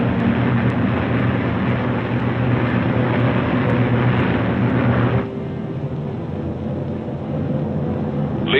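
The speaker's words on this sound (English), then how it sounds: "The Mustangs climb in formation to take positions above the boxes of B-29s." Several piston-engine aircraft, P-51 Mustang fighters climbing in formation above boxes of B-29 bombers in 1945, make a loud continuous engine drone that drops to a softer, steady hum partway through.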